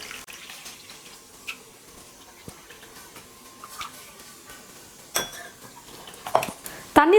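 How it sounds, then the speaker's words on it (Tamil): Water is poured into a cup of corn flour while preparing Bombay halwa for Diwali, with light clinks and splashes of kitchenware in a quiet kitchen; no one speaks. "இப்போ இதே கப்ல 2 கப் அளவுக்கு தண்ணி சேர்த்துக்க போறேன்."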